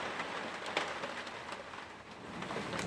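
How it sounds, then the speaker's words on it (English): Heavy rain pours onto a garden shed roof at an allotment as a dense, steady hiss with scattered louder drops and no talk. "it's absolutely pouring down. The rain's braying on the roof."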